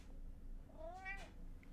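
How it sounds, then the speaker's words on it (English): An indoor house cat gives a single drawn-out meow that rises and falls, fairly faint against a low background hum, with no talking. "Hear the cat?"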